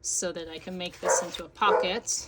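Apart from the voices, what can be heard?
dog barking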